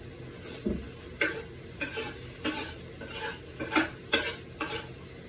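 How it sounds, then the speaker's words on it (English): Avocado and carrot sautéing in a skillet, a soft steady sizzle with regular scraping stirs of a utensil against the pan roughly every half second, close by and fairly quiet. "we're going to saute this up in the skillet"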